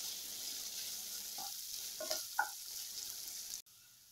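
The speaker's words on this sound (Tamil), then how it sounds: "இப்போ வெங்காயமும் இஞ்சியும் நல்லா பச்சை வாசனை போக வதங்கிடுச்சு" Onion and ginger sautéing in a pan for cauliflower podimas give a faint, steady sizzle broken by a few clinking stirs in the middle before the sound cuts off.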